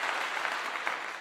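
Dense, steady applause from a crowd, a broad continuous wash of many hands clapping at moderate loudness throughout, with no voices on top.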